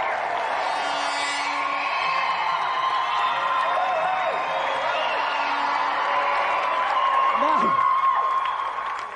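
Studio audience applause and cheering at an arcade arm-wrestling contest on a 1990s TV games show, a steady dense roar of clapping with whoops throughout, loud and close.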